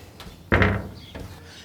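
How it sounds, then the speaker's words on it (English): A single solid thud as the metal door of a vertical smoker is shut, close by, followed by a faint rattle of the latch and a quiet room. "Get that door closed."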